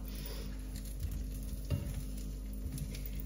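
Small fish frying slowly in a pan give off a steady, soft sizzle and crackle close by, with a faint stirring bump partway through and no talk.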